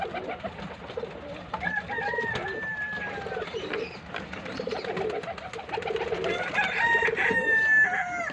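Pigeons coo and call close by in soft, repeated bursts, growing busier and louder toward the end, with no talking over them.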